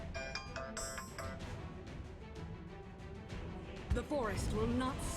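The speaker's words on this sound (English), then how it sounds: "That was my phone, not yours." Mobile phone ringtone chiming during a Elder Scrolls: Legends card game, a short run of bright electronic tones mixed under game music and sound effects, with someone talking over it.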